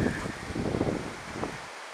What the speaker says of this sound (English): it's so windy, I don't know if you'll be able to hear this or not.